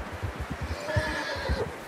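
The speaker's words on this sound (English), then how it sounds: "How's that new horse? He's all right. He'll do for now." A horse in Red Dead Redemption 2 gives a close, drawn-out whinny over a rhythmic run of soft hoofbeats.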